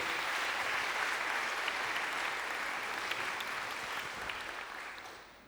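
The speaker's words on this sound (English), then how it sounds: "A warm round of applause for my pianist." An audience gives a warm, sustained round of applause for the pianist at a stage talk on civil rights, dense clapping holding steady before slowly fading toward the end.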